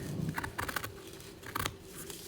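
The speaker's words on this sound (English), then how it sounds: "I'm going to take our scissors and we're going to cut accurately" Scissors snipping through fabric along a sewing pattern for underwear, a few quiet crisp cuts in irregular bursts, close and faint with no talk.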